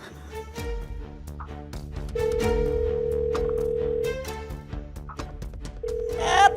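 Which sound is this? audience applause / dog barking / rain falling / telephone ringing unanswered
telephone ringing unanswered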